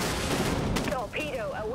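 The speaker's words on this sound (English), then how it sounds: "Fire missiles, aye, Captain." Missiles firing from a warship in the naval combat video game Dreadnought, a dense burst of launch blasts and rumble heard alongside a voice and synthetic game voice tones.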